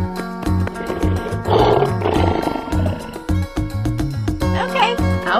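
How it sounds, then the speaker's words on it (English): A cartoon lion roars in repeated bursts over bouncy music with a thumping bassline, loud and close. "Lion."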